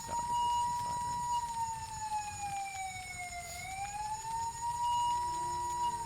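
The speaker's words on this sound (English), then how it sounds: "I could hear the sound of distant sirens." Distant emergency sirens in a visual novel game scene, a long wailing tone that slowly dips and rises again, steady and unbroken, with no voices over it.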